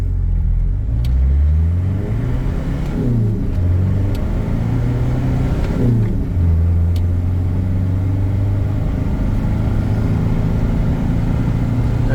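A Ford Courier (Mazda Bravo) pickup engine pulls hard from a stop through first, second and third gear, loud and close with the hose swap mod removed, its rising drone dropping at each shift before climbing again.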